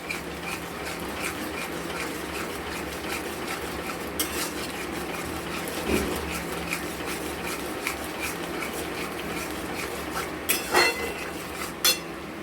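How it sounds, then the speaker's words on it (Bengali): Sour curd stirred continuously in a pan for a potol posto dish, giving faint steady scraping and occasional metallic clinks of a spoon against the pan under low background hiss. "টক দইটা দিয়ে আমরা অনবরত নাড়তে থাকবো, না হলে টক দইটা ফেটে যাবে।"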